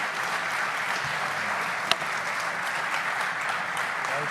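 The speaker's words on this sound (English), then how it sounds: "So please join me in a round of applause for Rob for his humility and this year's rec" An audience at an executive symposium applauds an award recipient with steady, dense clapping that fills the whole stretch, with one sharp louder clap near the middle.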